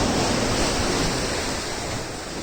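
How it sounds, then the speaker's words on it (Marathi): Sea waves crashing through coastal rocks on the Konkan coast at high tide, a loud, continuous roar of surging water and spray, with wind buffeting the microphone. "भरतीच्या वेळेस हे पाणी असं उंच उडतं फवारे"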